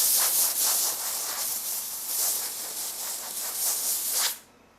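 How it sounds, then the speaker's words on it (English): A small compressed air hose blasting dust off a sanded laser-cut piece, a loud close rushing hiss that wavers as the nozzle moves, then cuts off abruptly near the end. "I got my little compressed air hose over here."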